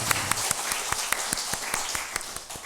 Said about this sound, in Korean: 우리 어린이들을 위해서 어른들이 뜨겁게 축복의 박수 하겠습니다.